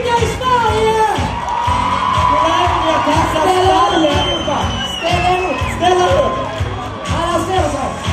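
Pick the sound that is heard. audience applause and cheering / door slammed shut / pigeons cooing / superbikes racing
audience applause and cheering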